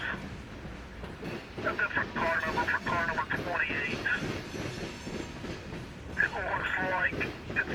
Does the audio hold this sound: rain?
no